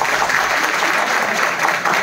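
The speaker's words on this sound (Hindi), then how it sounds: "तब इनके लिए ताली बजा दीजिए आप लोग।" An audience at a talk on digital literacy breaks into loud, sustained clapping, a dense close wash of hands that runs through the whole moment without speech.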